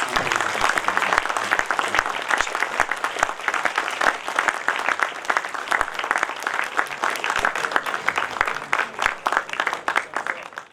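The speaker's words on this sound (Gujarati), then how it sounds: "જોરદાર તાળીઓ સાથે આપણે સૌ એમનો આભાર માનીએ" An audience in a hall claps steadily for about ten seconds after a book talk, a dense and even round of applause with no voices over it.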